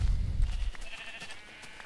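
A sheep on a Minecraft sheep farm gives a single short bleat at the start, followed by quiet ambient game sound.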